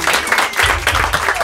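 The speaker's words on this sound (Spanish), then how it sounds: "fuerte aplauso" Short, dense applause from a small group of people, with brief background voices under the clapping.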